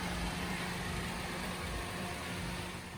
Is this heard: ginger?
no